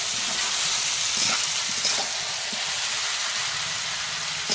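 Duck meat sizzles in a pan over a clay stove, a loud, continuous hiss and crackle heard close up with no voices.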